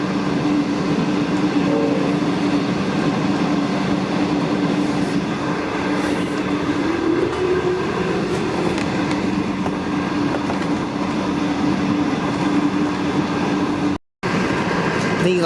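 A V/Line train at Geelong made up of SSH26, N475 and N465 carriage sets rumbles steadily past nearby, with a continuous roar of wheels and engine and a faint tonal whine, broken briefly by a moment of silence near the end.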